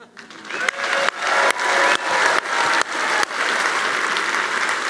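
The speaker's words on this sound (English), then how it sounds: "let's give him a big cheer" An audience at a United Way campaign kickoff gives a sustained round of applause and cheers, steady and fairly loud, with a few sharp louder claps near the start before it settles into an even roar.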